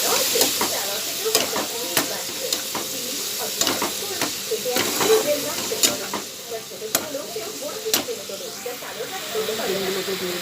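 Egg curry simmering in a pan with tomato sauce and water gives a steady close sizzle and frying hiss, broken by sharp clicks of a spoon stirring against the pan.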